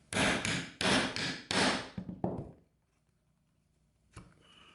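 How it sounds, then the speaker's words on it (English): A hammer drives rivets into a leather pouch made to hold a Zippo lighter: a quick run of loud, close, ringing blows, a short pause, then one lighter final strike. "We're going to put some rivets in."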